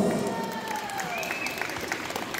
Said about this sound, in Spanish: un fuerte aplauso para estos